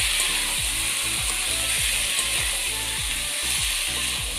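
Chicken fries loudly with turmeric and salt in a pan while it is stirred. A dense, constant sizzle runs under a steady rhythm of repeated scraping strokes, close up and with no talking.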